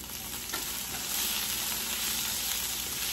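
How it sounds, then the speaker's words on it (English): Minced garlic sizzles in a pan for a hibachi-style dinner, a dense, loud, even frying hiss that holds steady throughout with no talking. "Kind of let that go in the pan for about a minute, 30 seconds to a minute, just so you can get the aromatics off of the garlic"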